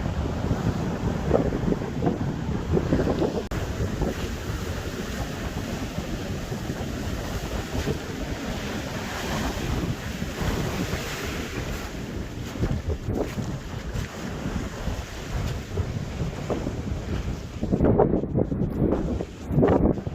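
Waves breaking on the Dumfries and Galloway shore in Scotland under steady, heavy wind buffeting, a continuous loud roar with a stronger surge near the end.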